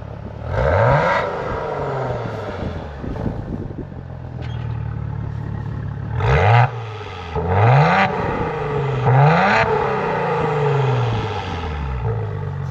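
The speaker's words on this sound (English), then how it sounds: "So I'm just gonna rev this up a little bit so you can hear it." The Maserati-built engine of a 2014 Maserati Ghibli is revved while parked, five or so sharp throttle blips rising and falling over a steady idle, heard close and loud.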